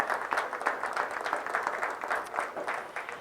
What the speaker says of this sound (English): Please join me in a round of applause for all of our sponsors.